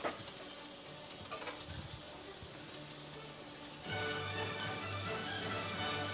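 Cooking liquid pours into a hot pan of beef and sets off a sudden louder, fuller sizzle that holds steady after a quieter stretch of hiss, with no one speaking.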